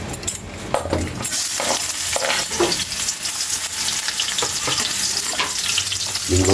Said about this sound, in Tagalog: nagpapainit na tayo mantika. Igigisa mo natin ating mga sangkap kaili